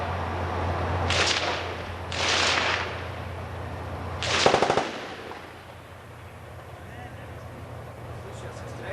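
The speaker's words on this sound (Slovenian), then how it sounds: "Slišijo se streli, pravi to." Gunfire during the 1991 war for Slovenia: several sharp bursts and a rapid rattling volley crack out at a distance over a low rumbling background, with voices talking in between.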